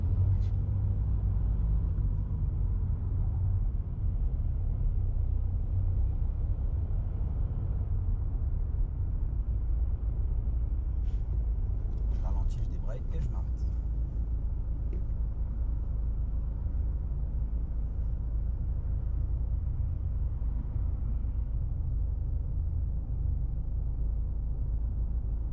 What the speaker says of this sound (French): j'accélère au point de patinage